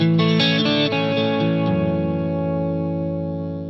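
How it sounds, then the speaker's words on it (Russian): An electric guitar runs through an MXR Custom Badass '78 Distortion pedal set to low gain. A few picked chords sound with a light, clear drive, then a final chord rings out and slowly decays. "И вот что будет, если мы включим этот 78-й Distortion со значением гейна где-то 9 часов, output чуть меньше 12"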